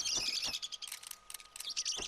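Several birds chirping and calling in the hunting game theHunter: Call of the Wild, Revontuli Coast map, with bright repeated tweets in quick bursts, fairly close and continuous over faint ambience, no talk.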